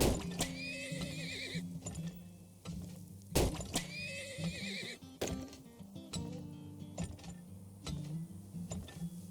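Horses in a video game whinny in long, wavering calls, two clear neighs among clopping hooves and mechanical clicks, with no talking.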